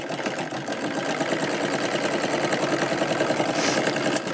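A sewing machine runs continuously at close range while stitching the seam of a katori blouse, giving a steady rapid mechanical clatter throughout and no speech.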